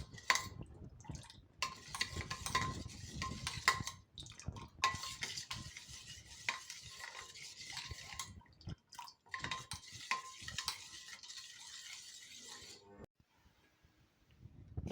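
Ragi flour being stirred into water for a thin drink, with spoon scraping and clinking against a vessel in steady bursts, close and fairly quiet, pausing briefly near the end.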